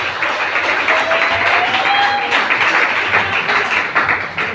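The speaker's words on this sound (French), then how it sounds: "On applaudit s'il vous plaît." A wedding crowd applauds with dense, steady clapping that carries on for several seconds at a fairly loud level, with faint voices mixed in.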